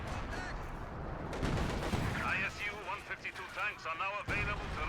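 Mortar counter-barrage artillery in Company of Heroes 2, dull distant booms and rumbling impacts running under a commentator's steady talk.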